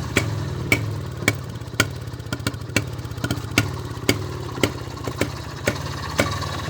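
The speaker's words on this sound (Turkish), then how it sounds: "ben şöyle motoru çalıştırayım biraz gezeceğim arkadaşlar" A Planet 5 motorcycle engine idles steadily after starting, a low chugging rumble with sharp periodic knocks or clatters roughly every half second, close and alone.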